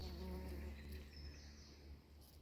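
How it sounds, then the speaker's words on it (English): A bee buzzes while pollinating flowers in a forest, a faint, steady drone that fades slightly toward the end, with a quiet outdoor background and no talk. "This is the sound of a bee pollinating flowers in the forest."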